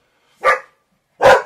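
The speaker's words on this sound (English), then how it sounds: "Sorry for the dog barking." Two loud, close dog barks sound alone, about three-quarters of a second apart, each a short, full bark, with silence around them.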